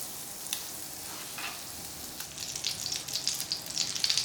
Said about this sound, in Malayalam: ഇതിലേക്ക് നമ്മൾ 1 ടേബിൾ സ്പൂണ് ബട്ടർ കേട്ടോ ഇട്ട് കൊടുക്കുന്നത്